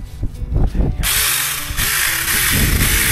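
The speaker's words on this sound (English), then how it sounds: "So I'll just show you, Jason, using this little chainsaw." Thumping and handling noises give way to a SEESII 8-inch mini chainsaw cutting steadily through wood, its high buzzing whine continuing to the end.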